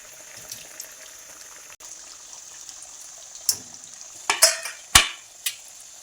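Maharashtrian-style dal batti frying in a pan and being flipped: a faint, constant sizzle broken by several sharp scraping clinks of the utensil against the pan.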